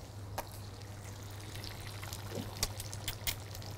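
Egg sizzling in melted butter in a pan over medium heat, a soft steady crackle with scattered spits and pops, close and fairly quiet, over a low constant hum.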